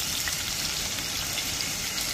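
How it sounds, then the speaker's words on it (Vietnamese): Dried blue-bone fish frying in hot oil in a kitchen on an island in Kien Giang, giving a dense, steady sizzle that fills the whole short stretch with no voices. "Bây giờ mình trải nghiệm chiên cá xương xanh nha các bạn."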